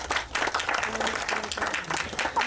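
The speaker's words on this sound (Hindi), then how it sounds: "एक बार जोरदार ताली हो जाए आप सभी की तरफ से." Audience applause at a Bollywood song launch event, brisk overlapping claps with crowd noise and voices underneath, moderately loud throughout.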